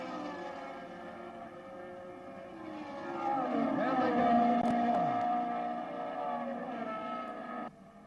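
Open-wheel race cars from the 1968 Tasman Series stream past in a rising, sustained engine roar that swells to a peak mid-pass and then fades, with a Doppler-like pitch drop as the field goes by.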